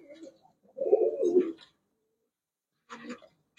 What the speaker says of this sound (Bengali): খুবই সুন্দর কবুতর গুলা।